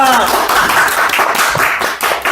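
Several people clap together, a dense burst of applause-like claps lasting a couple of seconds, loud and close.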